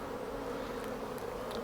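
Bees buzzing in a beehive, a faint, steady hum of many insects close by with no voices.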